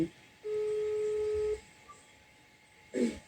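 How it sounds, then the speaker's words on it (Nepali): Telephone keypad tones while placing a call: one long steady beep, a short pause, then a brief second tone, clear over quiet background hiss with no talking. "फेरि फोन गर्छु"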